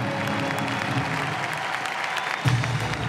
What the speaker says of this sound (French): c'est un tonnerre d'applaudissements et une ovation pour les artistes